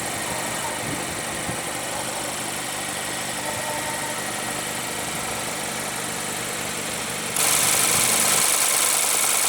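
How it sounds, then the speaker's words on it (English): A 2016 Mazda MX-5 Miata's 2.0 L inline four-cylinder idles in a steady, even hum for about nine seconds, and the level rises slightly near the end. "under the hood here we have a 2-liter inline 4-cylinder with Mazda's famous Sky Active technology"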